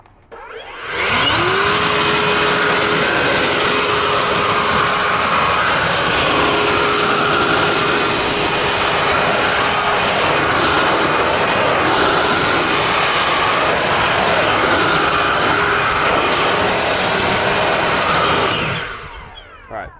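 A BigBoi Blowr Chargd car dryer blower runs in turbo mode, drying water off a car headlight: a loud, steady, high-pitched rushing whine that spools up at the start and holds unbroken for about seventeen seconds before cutting off.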